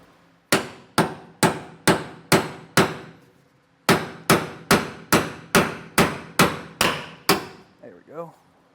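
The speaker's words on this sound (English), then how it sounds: "when you're hammering out, you might get a little bit of the way, and then it'll stick again, and then just hitting with that punch on the back helps force it out" A hammer strikes a punch to drive out a leaf spring bolt on a 2015 Keystone Raptor trailer, a close, loud run of six evenly spaced metallic blows, a pause, then about ten more, followed by a brief voice.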